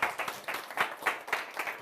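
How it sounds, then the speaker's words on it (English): Audience clapping for a man introduced as a Photoshop expert and best man, with bursts of applause swelling and easing in an uneven rhythm across the room. "So give him a round of applause for making such great scripts."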